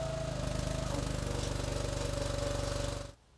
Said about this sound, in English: Watch this knife go up as we raise this log lifter